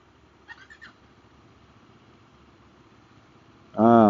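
A 2024 KTM Duke 390 single-cylinder motorcycle engine cranks and fires at the end, rising into a loud close throbbing idle after a quiet stretch with a brief faint sound.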